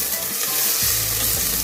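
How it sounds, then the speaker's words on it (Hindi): Onions fry toward golden brown in a small pot while cooking mutton paya, giving a loud, steady, close sizzle and crackle throughout, with no voices. "प्याज़ों को गोल्डन ब्राउन होने के लिए रख दिया"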